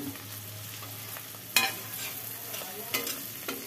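A metal spatula stirs a thin vegetable curry of data stems, potato, tomato and peas in a pan, sharp scraping clatters over a soft simmering sizzle, close and fairly quiet.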